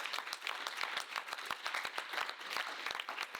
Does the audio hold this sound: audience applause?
yes